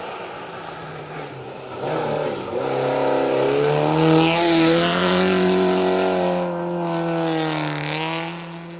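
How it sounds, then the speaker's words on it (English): A Saab 900 rally car engine approaches and roars past on a rally stage, its pitch climbing as it revs hard, loud and steady before easing slightly. "no wonder we can hear it coming a long way away. This is the Saab 900"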